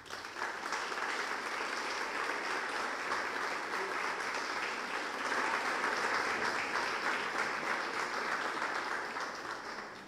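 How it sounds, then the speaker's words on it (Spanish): An audience applauds women entrepreneurs at a financial education training event, with steady, sustained clapping from many hands lasting throughout and no talking over it. "las protagonistas de esta mañana, que son las emprendedoras, para quienes pido un fuerte aplauso."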